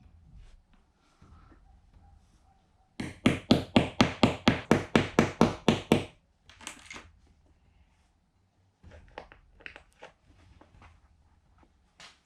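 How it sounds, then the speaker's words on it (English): A hammer taps a nail, about an inch long, into a wall to hang a picture: roughly twelve sharp, evenly spaced strikes close by, followed by quieter handling noises. "Few wee whacks, and then get the picture up."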